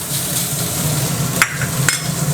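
Pork fat frying in a hot pan for crispy pork cracklings, a steady loud sizzle and crackle with occasional sharper pops and spatters, no voices.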